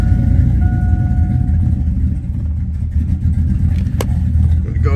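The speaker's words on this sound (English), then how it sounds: "I adjusted the idle to make it sound smoother" A truck engine fitted with a BTR Truck Norris cam and tune idles loud and close, a deep continuous rumble with a slightly uneven pulse and a brief sharp click near the end.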